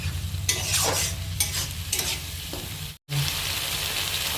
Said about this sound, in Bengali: এবার ভালো করে মশলাটা মা কষিয়ে নেবে